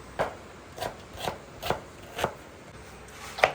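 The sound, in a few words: chopping onions with a knife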